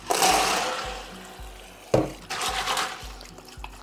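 Running water splashes over leca clay pebbles as they are rinsed in a sink, a steady broadband wash with a brief louder gush midway.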